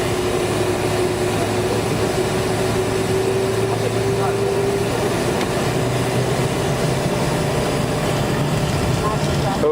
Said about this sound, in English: full takeoff thrust applied